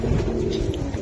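Pigeons cooing at a busy pigeon market, a steady low murmur of overlapping coos close by, continuous across the short moment with no voices.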